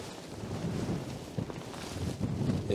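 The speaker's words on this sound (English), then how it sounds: "Look at the wind." Wind gusts buffet the microphone near a waterfall in Iceland's Westfjords, producing a loud, uneven low rumble that rises and falls across the whole stretch, with no voices.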